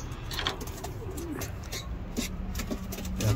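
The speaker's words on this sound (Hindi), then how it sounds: "इस बॉक्स में कबूतर के एक बच्चे हैं, ये माँ बाप है इसके।" Pigeons in a box with their chick give soft, close cooing over a steady background murmur, with faint bird calls scattered through the clip.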